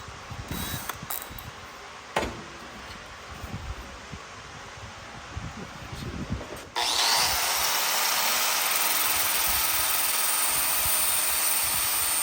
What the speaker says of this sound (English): put it in the grinder and work on it a little bit